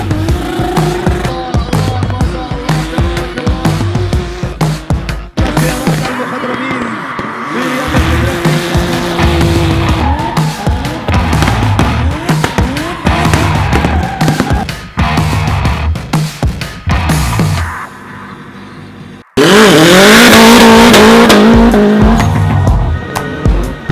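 A 2017 KTM stunt motorcycle at an outdoor stunt show in Jordan, its engine revving hard and loud with repeated tire squeals and skids, plus sharp bursts and a sustained roaring stretch near the end.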